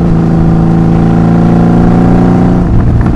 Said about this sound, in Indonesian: Satu motor ini aja udah berisik banget.